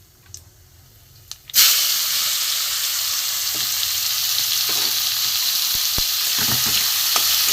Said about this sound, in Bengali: একটু ভেজে নেবো, এর সাথে কষে নেবো ভালো করে।